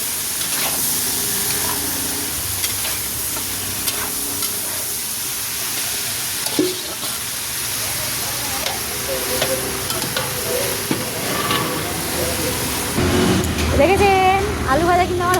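Potatoes hit very hot oil in a home kitchen pan along with vegetables, giving a steady hissing sizzle with occasional stirring scrapes while people talk over the frying.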